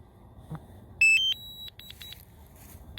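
A DJI Mavic Mini drone controller gives a burst of bright electronic beeps as return to home engages: a sustained tone, then a quick series of short pips, over quiet outdoor background.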